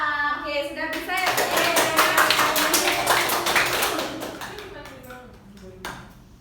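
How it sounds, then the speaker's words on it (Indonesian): Schoolchildren in an Indonesian fifth-grade classroom clap their hands together in a loud, dense burst of sharp claps that swells and then thins out into a few scattered claps, with voices mixed in. "Dwi, tepuk tangan."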